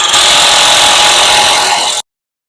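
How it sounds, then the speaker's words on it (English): A power tool whirs steadily and loudly for about two seconds while torquing down a 36mm CV axle nut on a Ram ProMaster City, then cuts off abruptly. "put the big old 36mm nut, and I'm going to torque that down as far as it will go"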